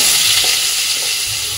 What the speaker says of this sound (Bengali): এবার এই তেলের মধ্যে কিন্তু আমি এঁচড় যে সেদ্ধ করে রেখেছিলাম সেটা ভেজে নেব